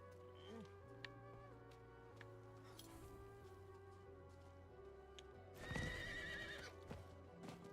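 A horse in the Diablo IV video game whinnies and its hooves clip-clop, faint and steady, layered over a droning game soundtrack, with a brief louder burst of clattering activity partway through.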